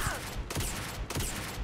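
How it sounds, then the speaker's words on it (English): Enemy gunfire aimed at the player in Starfield: Shattered Space, two sharp, evenly spaced bursts of shots at moderate loudness, close by, with no talking. "Excuse me, are you shooting me? My question is, why are you shooting me?"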